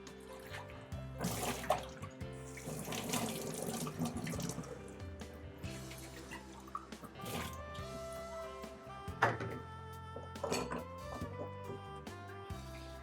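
Running tap water pours over a water purifier filter housing as it is rinsed of sediment. A steady splashing stream goes on with handling clatter, and chickens cluck faintly in the background.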